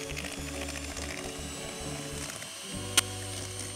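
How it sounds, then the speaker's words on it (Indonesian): An electric mixer runs at high speed beating cake batter, giving a steady mechanical whirring hum with a faint rhythmic pulse and a brief clink near the end, quiet and alone. "Lalu mixer dengan kecepatan tinggi hingga adonan mengembang."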